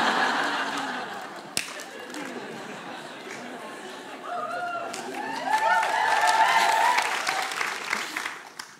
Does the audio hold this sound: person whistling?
no